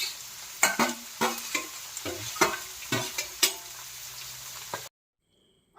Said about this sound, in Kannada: ಅಮ್ಮ ಇಲ್ಲಿ ಈರುಳ್ಳಿ ಕಟ್ ಮಾಡಿದ್ದನ್ನು ಸೇರಿಸ್ತಾ ಇದ್ದಾರೆ.